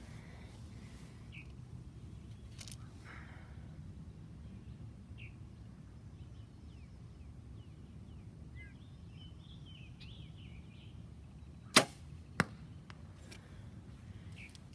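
An arrow shot from a bow strikes a distant target outdoors, two sharp brief impacts in quick succession standing out from a quiet background with scattered faint birdsong.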